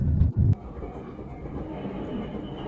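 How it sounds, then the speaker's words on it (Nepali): A Japanese train near Ashikaga gives two loud, close low thumps in quick succession, then settles into a steady low rumble that continues to the end. No one speaks. "जापानको ट्रेन"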